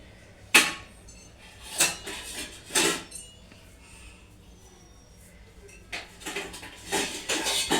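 Potato curry is moved from the cooking pot into a serving bowl, with a handful of separate metallic clinks and scrapes of a utensil against the vessels, close up, spaced by quiet pauses.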